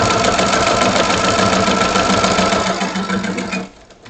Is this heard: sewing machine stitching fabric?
yes